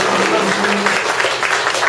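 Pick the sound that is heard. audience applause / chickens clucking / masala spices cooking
audience applause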